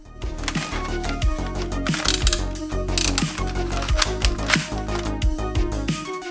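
A modified Nerf blaster's mechanism is worked repeatedly, giving a busy run of mechanical clicks, ratcheting and gear-like clatter with regular springy thumps, close and fairly quiet, with no voices.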